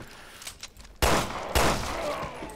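Two loud gunshots in the video game Resident Evil Revelations 2, about half a second apart, each with a lingering echoing tail over low game ambience.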